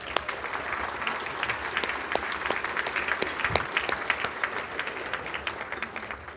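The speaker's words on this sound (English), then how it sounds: "Can we give them another applause" Luncheon crowd at an Armed Forces Day event claps together in a sustained, even round of applause, with a few sharper individual claps standing out near the microphone.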